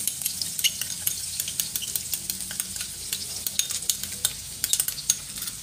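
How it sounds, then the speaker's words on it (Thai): Chopped garlic sizzles in hot oil in a pan while being stir-fried, with a steady frying hiss and frequent quick scrapes and taps of a utensil against the pan. "ผัดกระเทียมให้หอมนะคะ"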